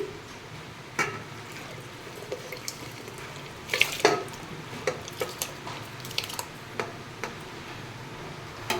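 Washed rice goes into a pot of boiling lentils for khichuri and is stirred, making scattered light ticks and clinks, a brief wet rustling burst midway, and a soft watery background.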